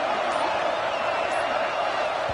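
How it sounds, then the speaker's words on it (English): Steady roar of a rocking stadium crowd in a college football video game on a fourth-down play, loud and continuous with no break for the whole stretch. "with this place rocking, the crowd forces a false start"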